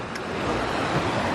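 River water rushing steadily near a log crossing, a dense, continuous broadband roar with no pauses, loud and close, with no talking.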